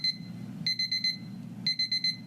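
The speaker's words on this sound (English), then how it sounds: "There's an alarm clock stuck inside the wall, and it goes off every night at exactly 7:50 p.m." An alarm clock trapped inside the wall of a Pittsburgh family's house beeps in quick bursts of four, with a pause between each burst. The beeps sound faint and muffled over a low, constant background hum.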